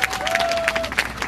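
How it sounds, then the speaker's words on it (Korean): An audience claps at a comedian's live impersonation act, with brief, evenly spaced claps falling about three per second in a short burst under a faint held tone. "야 반갑다 박수 한번 쳐요."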